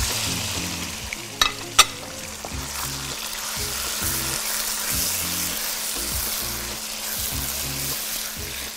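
Chicken thighs frying in a pan for chicken fajita, a continuous loud sizzle with a few sharp utensil knocks near the start and stirring throughout.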